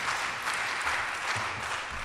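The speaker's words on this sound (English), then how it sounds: "That means you clap too." Audience applause for a year-end podcast special, a steady even wash of clapping at moderate level throughout, with no voices over it.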